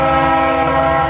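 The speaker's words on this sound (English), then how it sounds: "that's some kind of a louder train horn" A loud, sustained horn blares close by from a Milwaukee Road model railroad train, one steady chord-like blast.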